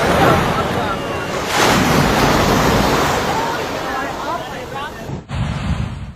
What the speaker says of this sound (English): the fucking ocean is crazy today.